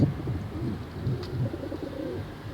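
Pigeons coo in a low, soft, continuous murmur through the whole stretch, a flock heard close by with no talking.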